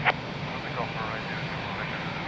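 Airliner departing Lisbon Airport, a steady broad engine roar heard at a distance under continuous air traffic control radio chatter.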